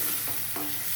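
Chili being stirred into ginger-garlic paste frying in a pan for dhaba-style paneer masala, a steady soft sizzle with scraping stir strokes, close and continuous, no voices.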